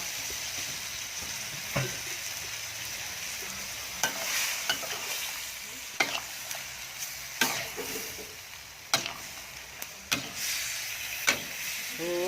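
Sweet and sour stir-fry in a wok with cornstarch slurry added, giving a steady sizzling hiss broken by repeated sharp scraping and clanking strokes of a spatula, close and fairly quiet, with no talking.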